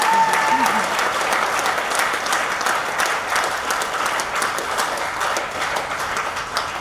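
A training audience in Lucknow breaks into sustained applause, dense steady clapping from many hands filling the room at a fairly even level throughout.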